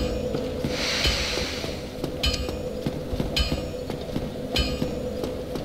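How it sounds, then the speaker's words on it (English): Hammer strikes in the video game Dark Souls, several sharp metallic impacts spaced irregularly over a steady game soundscape, with no talk. "I just wanted to test that sound of his hammer."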